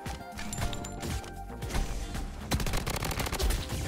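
KAG6 rifle gunfire in the video game Bloodstrike, with dense bursts of rapid shots and sharp cracks repeating through the clip, loud and up close, layered with other in-game blasts and impacts.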